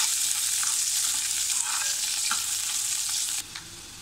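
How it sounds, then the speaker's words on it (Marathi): Finely chopped onion sautés in a pan during egg masala cooking, giving a dense, continuous hiss with light stirring scrapes, close and loud, easing slightly near the end, with no talking. "हा जो बारीक केलेला कांदा आहे तो टाकूया। थोडा आपण याला गुलाबी रंग येईपर्यंत परतून घ्यायचा आहे।"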